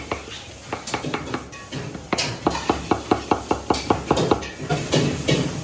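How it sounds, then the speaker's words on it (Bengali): An onion is chopped with a knife on a board, a run of quick, crisp, evenly spaced thuds building into a fast steady rhythm, close and clear over faint kitchen background. "আগে পেঁয়াজটা কেটে দিচ্ছি দেখুন"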